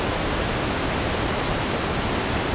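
Stream water on Exmoor in winter rushes steadily downstream near a small waterfall, a loud, unbroken broadband roar with no pauses.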